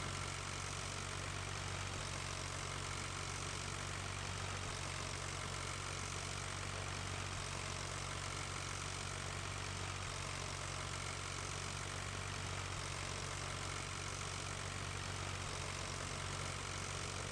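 John Deere 8530 tractor engine idling in Farming Simulator 15, a steady low mechanical hum that drones unchanged and fairly quiet for the whole stretch.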